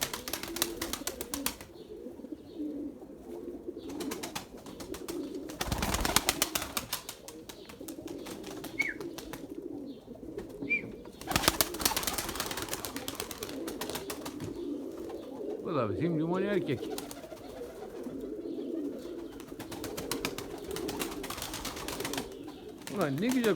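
Pigeons coo in low, throaty phrases from close by in a loft, with scattered chirps, a few loud bumps and rustles, and steady background noise throughout.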